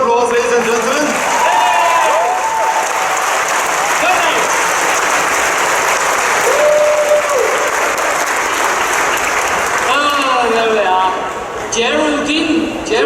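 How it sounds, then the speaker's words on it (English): Comic convention audience applauding quiz winners during a Q&A session, dense sustained clapping and cheering filling the hall while a host speaks over it through a microphone. "Give them a round of applause, ladies and gentlemen."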